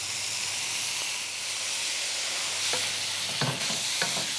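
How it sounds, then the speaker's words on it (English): Beef sizzling and being stirred in a hot wok for black bean beef, a steady broadband fry hiss with a few sharp scraping stir strokes near the end, close and alone. "Now at this stage, I'm going to add in the beef."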